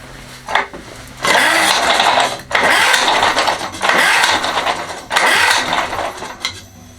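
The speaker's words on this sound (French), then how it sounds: "le moteur tourne bien" A small lawn mower engine roars in loud bursts, revving up and down in several surges with brief drops between, close by.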